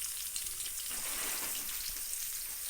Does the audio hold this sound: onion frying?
yes